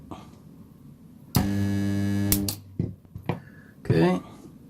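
A resistance battery spot welder fires one loud, steady electrical buzz lasting about a second and a half, followed by a few sharp clicks and a short stretch of voice.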